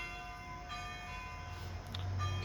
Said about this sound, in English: If I stop the church bells